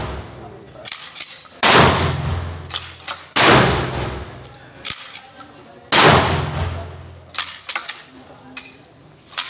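Gunshots at a police firing range: four loud, sharp reports spaced a couple of seconds apart, each ringing out briefly, with metallic clicks and handling noises between shots and people talking nearby.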